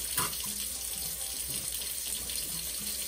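Steady running water pours while a brown dog is rinsed in a bath, a continuous close hiss with a few faint clunks beneath.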